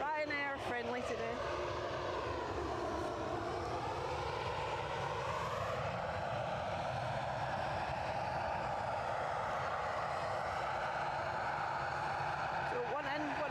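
Ryanair jet taking off at Edinburgh Airport, a loud continuous engine roar with a shifting whine that builds and sweeps past, heard from the spotting position with people talking over it.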